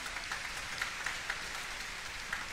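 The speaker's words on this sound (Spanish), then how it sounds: "Démosle un aplauso de bienvenida" Church congregation at a Mass in León, Nicaragua, applauding visiting priests: a thick, continuous wash of clapping heard from a distance, even and unbroken, with a few slightly louder claps popping out.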